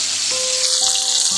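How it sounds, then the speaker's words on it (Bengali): Pieces of shoal fish fry lightly in hot oil, giving a loud continuous sizzle with a few faint tonal squeaks running through it. "মাছগুলো হালকা করে ভেজে নিব।"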